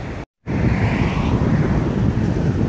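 Wind and waves at Lido beach in Hong Kong: a steady, loud rush of wind buffeting the microphone over a low surf roar, broken by a brief dropout near the start.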